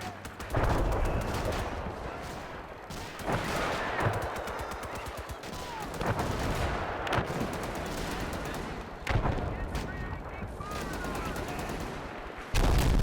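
Battle gunfire with rapid machine-gun bursts and heavier mortar blasts, dense, loud and continuous, with repeated booming impacts throughout.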